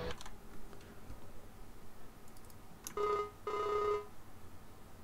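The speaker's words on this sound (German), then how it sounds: "Ich muss mal gerade mit dem Neumann nochmal telefonieren" On a sheep farm, a telephone rings for a call in a quiet room. There are a few faint clicks, then two short electronic ring bursts close together.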